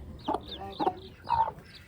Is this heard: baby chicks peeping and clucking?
yes